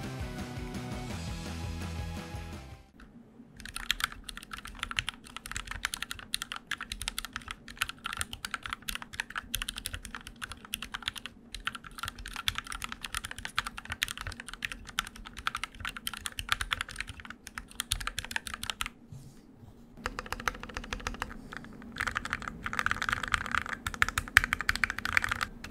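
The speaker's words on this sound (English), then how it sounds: "I'm gonna do a sound test at the end for you guys to compare." Keystrokes on an upgraded Drop mechanical keyboard rattle continuously in dense, rapid clusters, close and clear, with a short pause near the end before the typing resumes; no voices.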